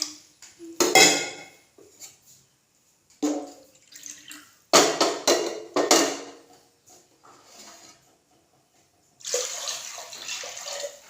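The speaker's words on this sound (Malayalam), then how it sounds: "ഇതിലോട്ട് വെള്ളം ഒഴിച്ച് കൊടുക്കാം" Water is poured in several separate bursts into a heated pressure-cooker pot while making ghee rice, each pour a loud, close splashing gush followed by a pause.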